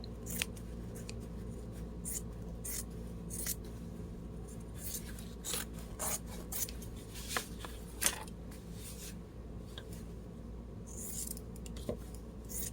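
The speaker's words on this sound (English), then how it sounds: "So I'm just going to cut me a piece off." Scissors snip repeatedly through cover material for a junk journal, producing a quiet, irregular series of crisp cuts over a faint steady background hum.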